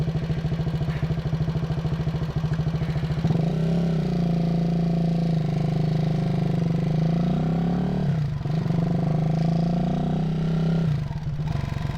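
A motorcycle on a shakedown ride, heard close and steady, its engine note rising and falling a few times as the rider shifts and changes throttle.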